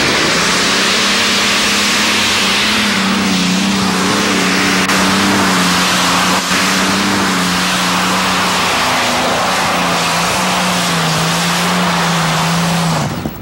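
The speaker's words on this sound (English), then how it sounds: "Watch the tires on this Allison. They'll light the tires up." A drag racer powered by an Allison aircraft engine launches at a 1987 drag event in Fishersville and spins its tires. A loud, steady, deep engine roar carries without a break for the whole run.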